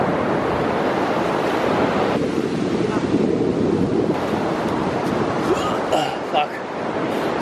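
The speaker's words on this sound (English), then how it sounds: "I made the guys stop off at Blueys Beach, which is this beach" Rough ocean surf rolling in at Blueys Beach on the east coast, a loud, continuous wash of breaking waves heavily buffeted by wind noise on the microphone.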